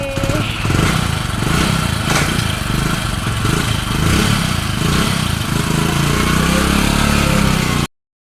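A motorcycle engine runs steadily and close by for about eight seconds, a throaty mid-pitched drone, while people talk over it before it cuts off abruptly.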